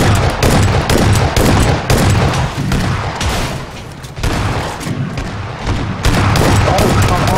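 Shotgun blasts in PUBG during a shotguns-only event fire in rapid, loud, dense bursts with brief gaps, and a player's voice occasionally mixes in under the gunfire.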